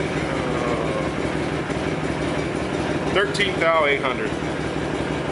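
A Honda VTX motorcycle engine idles with a slight lope, a steady low rumble heard up close while someone talks over it briefly.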